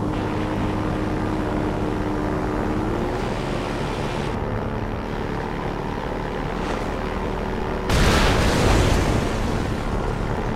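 An airplane engine in the video game Far Cry 4 drones steadily at close range, and a louder burst of rushing roar breaks in near the end. No one talks over it.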